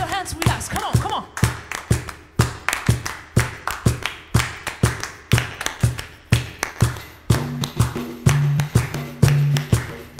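Audience hands clapping the Persian rhythm Jivoni at a workshop, crisp claps in a repeating patterned beat throughout, with a sustained tone entering near the end.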